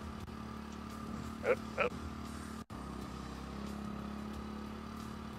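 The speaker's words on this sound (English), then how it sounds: "You don't want to hold both when you're starting your motorcycle" A motorcycle engine in the Apocalypse Rider VR game, a faint, steady low drone running throughout with a brief dropout midway, while a voice briefly exclaims over it.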